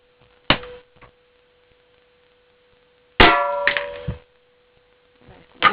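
An air gun fires an armor-piercing pellet at a target: sharp isolated cracks and metallic clangs in a quiet room, one early, a tight cluster of two near the middle, then another at the end.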